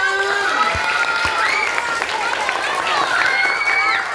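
Children clap at a Maulid Nabi religious gathering, a sustained, fairly loud patter of hands while an adult voice and children's voices carry over the applause.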